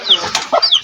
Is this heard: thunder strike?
no